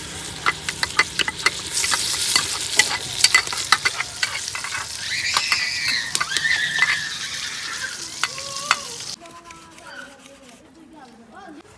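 Onions frying in ghee in a village kitchen, a steady sizzle with spoon stirring clatter throughout, under busy background voices and talk, ending quieter after nine seconds.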